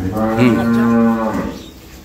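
A dairy cow of an improved breed, a four-toothed cow with her calf on a Noakhali farm, gives one long, loud, close moo that holds steady and then fades, with no talk over it.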